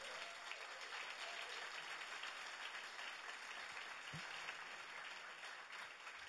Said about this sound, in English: let's give a round of applause to Hamilton.